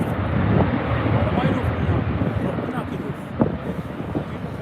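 An airplane landing in storm-force wind and wind shear at Manchester Airport, its engine roar a broad steady rumble mixed with wind buffeting, heard from a distance while people talk over it.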